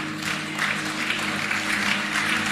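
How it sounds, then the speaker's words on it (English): A congregation at a church ministry gathering applauds in a continuous, even wash of clapping with no clear pauses. "Are you clapping?"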